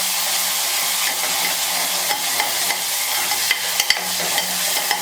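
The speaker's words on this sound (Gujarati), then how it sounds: "આપણે ટામેટા અને ઓનિયન બંને સાથે ઉમેરવાનું છે બંનેને આપણે હલાવી લઈશું" Tomato and onion frying in spiced oil with asafoetida in a pan, a steady loud sizzle with scraping stirring strokes and a few sharper knocks from the spoon.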